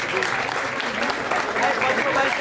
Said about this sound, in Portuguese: É isso mesmo, palmas.